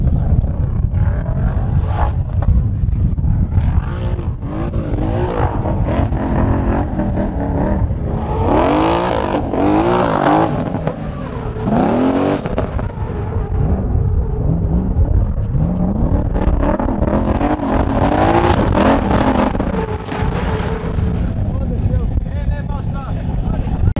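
A race car lapping the Grobnik circuit, engine note rising and falling as it revs and shifts, growing loud on close passes, with a person talking over it.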